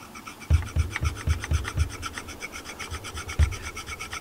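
Flat file rasping burrs off a metal part on a Peugeot 308 during a coolant leak repair, about six quick close strokes in a steady rhythm, then a pause and one more stroke.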